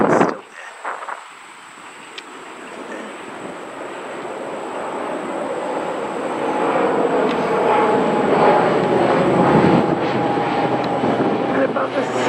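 Airplanes fly overhead near the airport in San Juan beside the Martin Peña Canal, a broad engine roar that swells louder over several seconds, with a brief voice at the start.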